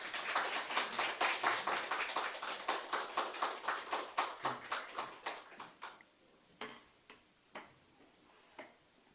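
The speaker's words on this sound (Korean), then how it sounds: "우리 한번 박수로 환영하겠습니다." A church congregation claps in welcome for a visiting pastor, a rapid steady round of applause that thins out into a few scattered, slower claps before fading to quiet.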